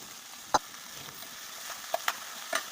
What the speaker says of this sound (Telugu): తర్వాత మనం ఇప్పుడు పచ్చిమిరకాయలు, ఉల్లిపాయలు వేసుకొని బాగా ఫ్రై చేసుకోవాలి